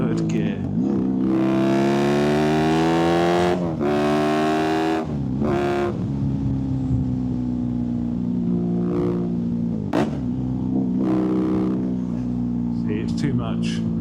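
A BMW R nineT motorcycle fitted with an Akrapovic exhaust, valve fully open, revs hard through the gears, its loud engine note climbing and dropping in repeated pulls close by, with brief talk over it.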